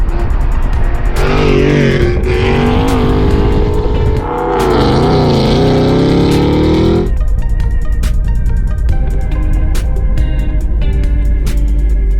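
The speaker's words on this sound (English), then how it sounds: "your car sounds like a freaking NASCAR engine going by" A Whipple-supercharged 2018 Ford Mustang roars past at close range, revving loudly, then the noise cuts off sharply, leaving a low rumble and scattered clicks.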